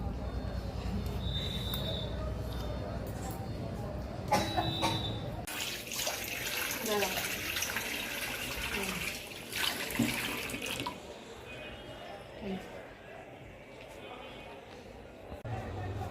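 Water runs from a tap as someone washes their hands and face in a household setting, a steady splashing stream that cuts off partway, then gives way to scattered drips and handling noises, with a voice briefly heard.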